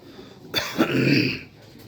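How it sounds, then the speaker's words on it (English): A single close, rasping cough that drags into a throat-clearing rumble. "I'm clearing my chest and throat nonstop"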